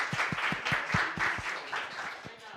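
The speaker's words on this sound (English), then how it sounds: "Everyone give her a round of applause." A small group claps steadily for a few seconds, a brisk rhythmic patter of hands that tapers off slightly toward the end.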